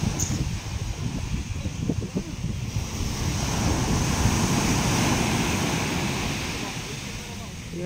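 Sea waves wash steadily at a pier, a broad continuous surf roar with strong wind buffeting the microphone.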